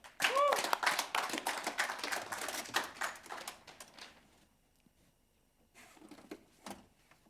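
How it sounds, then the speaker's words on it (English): A webinar audience claps after a call for applause, a dense burst of hand claps for about four seconds that thins and fades, followed by a few scattered softer taps. "let's give a round of applause for BSE."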